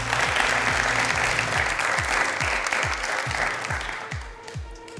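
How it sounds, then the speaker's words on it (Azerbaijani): A studio audience of students applauding at a talk show, sustained loud clapping from many people that tapers off near the end, with a faint voice underneath. "özünüzü bir alqışlayın"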